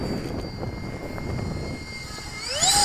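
Phazor 4-cell RC model plane flying at a club field, its electric motor faint and distant at first, then whining up in pitch as throttle is pushed back in.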